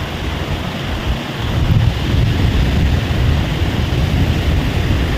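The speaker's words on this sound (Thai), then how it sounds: "บรรยากาศคือติดริมทะเลเลยนะคะ" Sea waves wash against the shore at Laem Mae Nok Kaeo in Chanthaburi, a continuous broad roar of surf mixed with wind buffeting the microphone, loud and steady with no voices.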